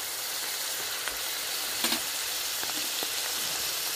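Turmeric and dry chilli powder fry in a pan for a katla fish curry with cauliflower and potato, making a steady, close hiss broken by a few faint stirring knocks, with no talk.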